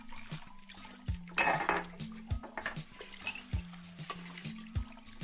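Dishes and cutlery clatter and clink close by, with scattered clanks over a faint hum, no speech.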